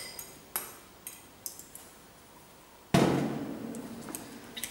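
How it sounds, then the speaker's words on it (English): Metal fork on a small mixing bowl while mashing avocado for guacamole, quiet scattered clinks and taps, then a louder scraping, squishing stretch with a few more light knocks. "I'm just going to add the avocado to the mixing bowl and mash it with a fork."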